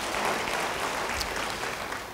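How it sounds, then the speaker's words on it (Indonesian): A church congregation breaks into steady applause during a sermon. The clapping is dense and even, fairly full, and lasts a couple of seconds with no clear speech over it. "Beri tepuk tangan bagi dia."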